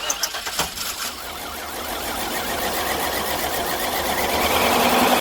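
A car engine with no spark cranks on the starter in a rapid, even churning rhythm, loud and close, rising slightly as it spins for several seconds without catching, after a few brief knocks at the start.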